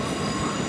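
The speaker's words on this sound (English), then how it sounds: "The train now approaching platform 14 is the 1541 Southern service to London Victoria." A Southern service train approaching a platform at Clapham Junction gives a steady, loud rumbling roar of wheels on rails, continuous and unbroken, with no voices.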